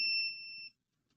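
An electronic continuity-test beep from a gadget circuit being built, one steady two-tone tone lasting about two-thirds of a second, fairly close and clear, then cutting to near silence.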